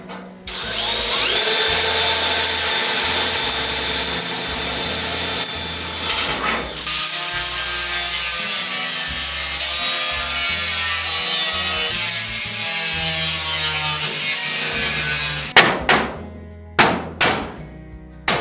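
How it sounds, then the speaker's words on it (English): A drill bit grinds into the corners of a metal roll pan, a loud continuous whining cut lasting about fifteen seconds with brief pauses, ending in a few sharp knocks and clunks. "I'm going to try the drill bit to finish up the corners here."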